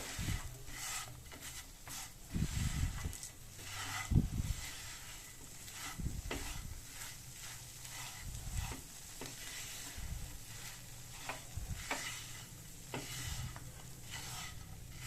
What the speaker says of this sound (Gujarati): હવે ધીમે ધીમે હલાવવાનું છે.